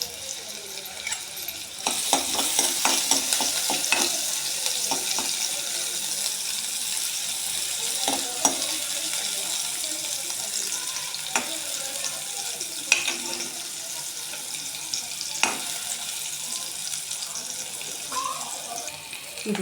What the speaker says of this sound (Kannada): ಇದಕ್ಕೆ ನಾವು ಸ್ವಲ್ಪ ಸಣ್ಣದಾಗಿ ಹೆಚ್ಕೊಂಡಿರೋ ಈರುಳ್ಳಿನ ಸ್ವಲ್ಪ ಬಾಡಿಸ್ಕೊಳ್ಳೋಣ.